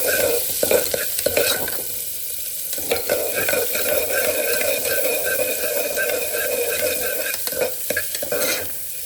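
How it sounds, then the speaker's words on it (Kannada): Onions sautéing in oil in a pan for a soya vegetable pulao, turning light brown while a spoon stirs them, giving a steady close sizzle with scraping strokes throughout and no voices. "ಈರುಳ್ಳಿ ಹಾಕ್ಬಿಟ್ಟು ಸ್ವಲ್ಪ ಬ್ರೌನ್ ಆಗೋದಕ್ಕ, ಲೈಟ್ ಬ್ರೌನ್ ಆಗೋದಕ್ಕ ಸ್ವಲ್ಪ ಬಾಡಿಸ್ಕೊಳ್ಳೋಣ."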